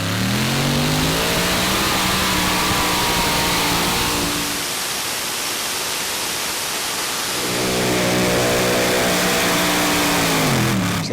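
A modified pulling tractor roars at full power through a tractor pulling contest run in Brande, Denmark, its engine loud and droning with rising and falling pitch, easing briefly mid-run before surging again under heavy noise.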